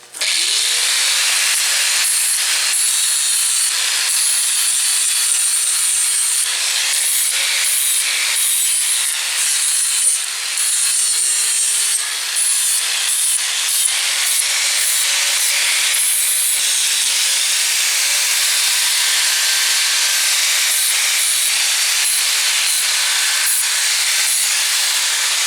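A grinder fitted with a flap disc cleans up fresh welds on cut metal for a snowblower's gravel skis, a loud continuous abrasive hiss and rub at close range that runs unbroken for the whole stretch with only slight wavering.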